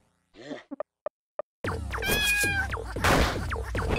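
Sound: cat meowing in video game Lisa

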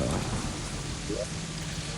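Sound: rain falling in Terraria video game

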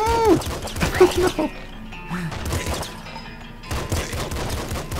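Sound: triple machine gun firing in video game Nuclear Throne

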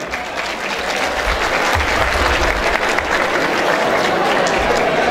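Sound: audience applause for imam at village event

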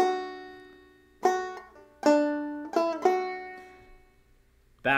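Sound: clawhammer banjo playing Greensleeves bar chord measure

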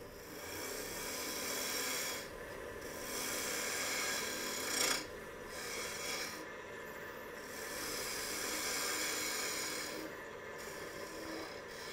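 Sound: wood lathe turning tenon on lidded box

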